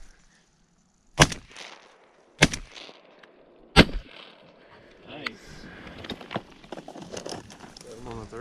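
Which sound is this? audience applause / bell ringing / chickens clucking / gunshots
gunshots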